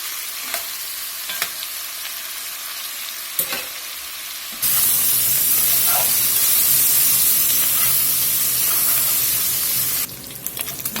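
Pork browning in a pot for Cajun jambalaya: a steady, loud sizzle and fry with a few stirring scrapes early on, then a sustained hissing roar of frying fat until near the end, with no talking.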